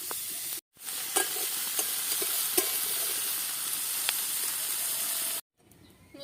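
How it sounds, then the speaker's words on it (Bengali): Taro frying in a pan with turmeric, giving a continuous loud sizzle with scraping stir strokes throughout and two brief breaks in the sound. "সব কিছু একসঙ্গে করে ভালো করে ভেজে নেব।"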